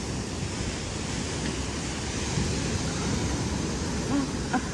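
Sea waves at Haeundae beach wash in a steady, broad roar heard from within the water, close and continuous with wind buffeting, no distinct breaks or talk.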